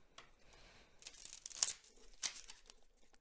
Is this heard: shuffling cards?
yes